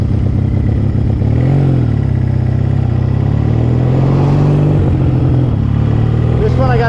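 A vintage motorcycle engine runs close by with the choke on, a steady low rumble that wavers slightly in pitch as it idles.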